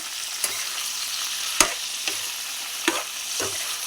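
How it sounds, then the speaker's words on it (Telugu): Brinjal pieces fry in a pan under a quiet sizzle as a spoon stirs them, with a handful of distinct scrapes and taps spaced a second or so apart, near and without talk. "వంకాయలు వేసుకొని 5 నిమిషాల పాటు ఇలా కలుపుకోవాలి"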